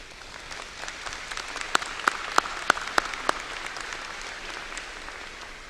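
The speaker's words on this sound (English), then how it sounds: "Graduates, let's offer a round of applause as we ask our faculty and staff of our university to please stand." Sustained applause from graduates at a university commencement as faculty and staff stand, a broad distant wash of clapping with a few sharp, louder claps standing out near the middle.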